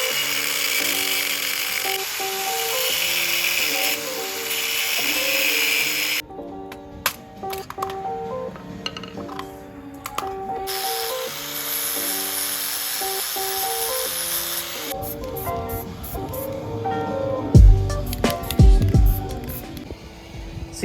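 A power tool cuts through a Nissan 350Z seat bracket in bursts, a steady whining drone stopping and restarting, close and fairly loud, ending with sharp clattering metal knocks.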